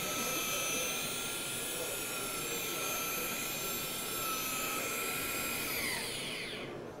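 A polishing machine buffs a boat hull at speed, giving a steady, loud, continuous high-pitched whine with a broad hiss that holds throughout and tapers slightly at the end.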